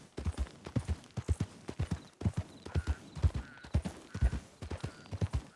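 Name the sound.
horse hooves clip-clopping in a video game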